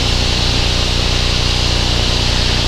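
Small propeller airplane engine in level cruise flight, a loud steady drone with a constant rhythmic pulse filling the cabin, no voices.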